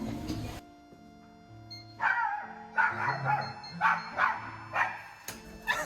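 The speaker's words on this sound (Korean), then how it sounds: "제 집에 들어가면 비밀번호 치는 순간 제 구름이가 엄청 짖을 텐데" A dog barks in repeated sharp bursts, close and loud, as someone arrives at a grandmother's home, with soft whimpers mixed in.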